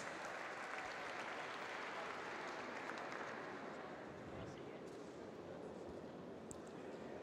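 A crowd at the Paraclimbing Cup Edinburgh 2017, held at a climbing World Cup, applauds the men's RP2 medalists, a faint, distant, steady wash of clapping that continues without letup.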